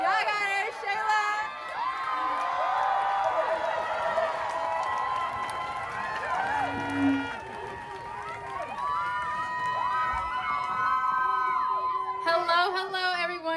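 An outdoor crowd at an Oakland protest rally cheers, whoops and shouts steadily throughout, with a voice or two rising above the sustained roar.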